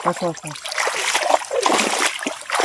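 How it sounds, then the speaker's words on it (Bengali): Prawns are washed by hand in water beside a canal in the Sundarbans, giving close, uneven splashing and sloshing, with a voice speaking briefly at the start. "চিংড়ি ধুয়ে নাও ধুয়ে নাও ধুয়ে নাও আর ধুয়ে নাও না।"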